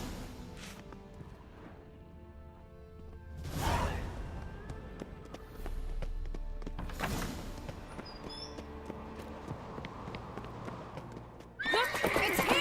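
Horses in The Witcher 3 video game neigh and whinny several times, with clip-clopping hooves and creaks in between, fairly close and moderately loud, ending in a sharp burst of noise.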